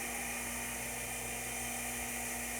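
Air conditioners hum inside an air quality monitoring station, one unit running while another waits its turn. A faint, steady mechanical drone with a constant tonal whine and no breaks.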